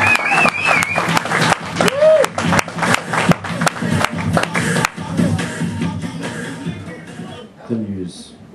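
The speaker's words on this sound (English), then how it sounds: "put your hands together. Start cheering" A comedy club audience at The Roxbury applauds and cheers as comedian Donny Walker is welcomed onstage, with dense clapping and whoops swelling early then gradually thinning toward the end.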